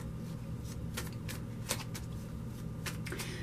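Tarot cards being shuffled give a quick, steady riffle of papery flicks and slaps, close and fairly loud, with no voice over them.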